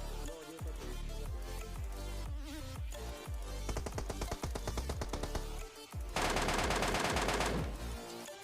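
Rapid bursts of video game gunfire, including an MK rifle, crackle almost nonstop, loud and dense, with a sustained heavy volley near the end.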